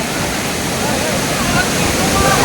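The Lakkam Waterfalls in Munnar roar in a loud, constant rush of falling water that fills the short stretch without a break.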